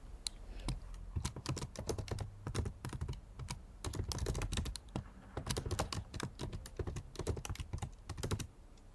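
Someone types notes on a computer keyboard, a quick, uneven run of close, crisp key clicks with short pauses, soft overall and without speech.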